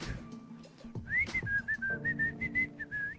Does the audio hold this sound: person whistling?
yes